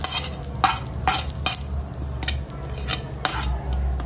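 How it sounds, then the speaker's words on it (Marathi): Grated coconut roasting in a pan with onion, ginger and garlic for a fish ghee roast masala: a spatula scrapes and stirs in regular strokes over a low, continuous sizzle. "इथे खोबरं भाजून घेऊया"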